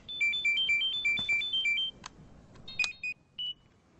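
A phone ringtone trills a fast, loud alternating two-note electronic beep pattern, then breaks off into a few scattered short bleeps.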